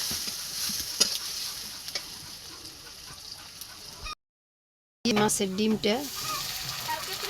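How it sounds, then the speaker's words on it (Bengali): Chopped onion and chilli sizzle steadily in a hot pan, with faint stirring ticks. The sound cuts out for a brief silent gap, then returns with a voice talking over the frying. "এটা দিয়ে হালকা পরিমাণ একটু ভেজে নই পেঁয়াজটা আর মরিচটা।"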